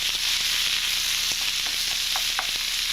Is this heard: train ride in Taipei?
no